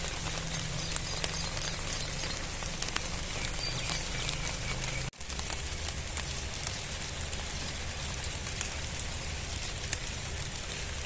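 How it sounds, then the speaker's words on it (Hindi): Rain falls outdoors as a steady, soft patter spread evenly across the scene, faint and continuous, with a brief dropout halfway through. "बारिश है तो बारिश में चलें"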